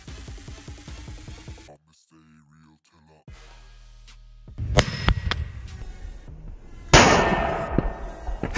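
A sharp firecracker bang drives a forged nail into the ground, followed by a metallic clang and another loud burst, with clattering and talk around the blasts.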